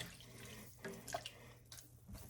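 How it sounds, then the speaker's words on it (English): A kitchen sink tap runs softly as a pot is emptied and rinsed while making zuppa Toscana, a faint, steady wash of water with a few small drips and splashes, no talk. "I'll empty the water and then rinse it one more time."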